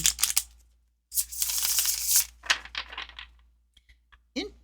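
Tarot cards are riffle shuffled and cut up close, giving bursts of rapid fluttering clicks, then a few soft taps and a final card snap, all in a quiet room.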